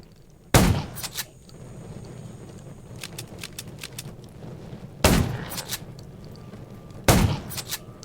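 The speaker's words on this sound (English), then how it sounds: "Gunshots will attract them." Three sharp, loud gunshots from the Android zombie-survival game Undown, fired singly and spaced seconds apart over a low, steady in-game ambience, each with a brief ringing tail; no one speaks.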